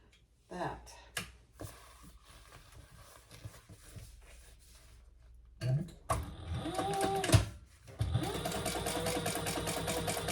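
A sewing machine top stitching a crossbody bag runs in a steady mechanical whir with rhythmic needle clatter, starting and stopping in short runs before a louder continuous stretch near the end.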